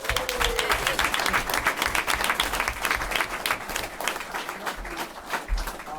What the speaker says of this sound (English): we can give an applause for Matt Durkin, who's an assistant coach.